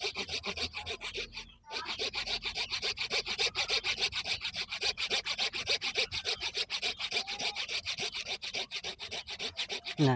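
Hand saw cutting very hard wood in quick even strokes, a steady close rasping rhythm with a brief pause early on, then continuous back-and-forth sawing.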